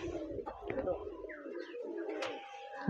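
Giribaz pigeons at a home loft coo in low, rolling murmurs, with a few soft chirps and a human voice mixed in close by.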